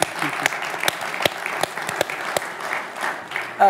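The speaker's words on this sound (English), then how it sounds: "it deserves a round of applause from this audience" Applause from an audience at a forum on African leadership, honoring an African Union achievement: sparse, uneven claps with sharp individual hand strikes scattered across a few seconds, fairly close.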